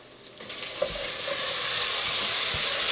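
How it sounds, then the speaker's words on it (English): Bacon frying in a pan, a steady loud hiss of sizzling fat with scattered pops and crackles that swells slightly, no talk. "I hear my bacon going a little wild over here"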